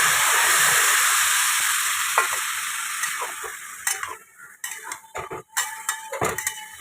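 Water poured onto spices frying in a pan with panch phoron, dried red chillies and ground coriander, a loud hissing burst that fades, followed by scattered spoon clinks and scraping against the pan.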